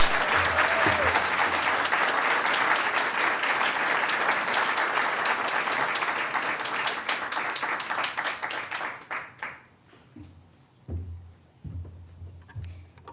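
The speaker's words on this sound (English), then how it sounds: "So please join me in a round of applause." An audience at an annual awards event claps in a sustained round of applause that fades out toward the end, leaving a few scattered claps and faint murmurs.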